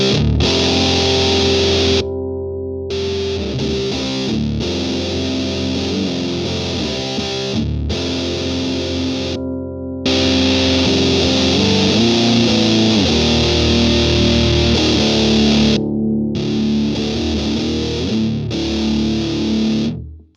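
An electric guitar played through Musket and Blunderbuss fuzz pedals rings out loud and thick with sustained distorted chords and bends, broken by a few short pauses between phrases.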